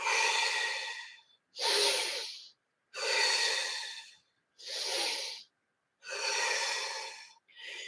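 Deep breathing through the nose during a breathwork session: about five long, close, rushing breaths separated by short silences, with no talk.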